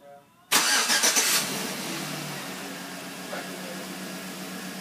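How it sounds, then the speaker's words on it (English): A 2007-2013 Chevy Avalanche started by remote: a sudden engine crank fires up loudly, then drops to a steady, quieter idle that runs on with a faint tone in the background. "We hit the start key once. Remote whistles, engine cranks."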